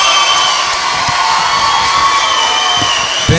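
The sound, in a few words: audience applauding and cheering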